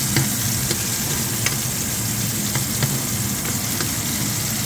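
Baby squid and white spring onion stir-frying in hot oil, a steady close sizzle and crackle with faint scraping stirs throughout, no voices.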